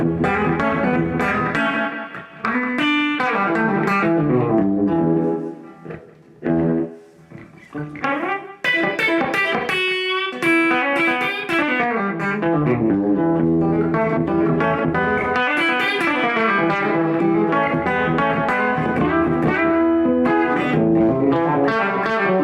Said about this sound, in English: So that's more of a slapback.